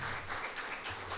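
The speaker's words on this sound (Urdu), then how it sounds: "سیکرٹری پاور، ان کے لیے بھی بہت تالیاں لگائیں" Audience applause for the power minister and secretary at a public government event, a steady, dense burst of many hands clapping with a low hum underneath.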